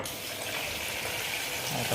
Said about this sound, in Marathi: पाणी भरल्यानंतर पाणी असं खालून येते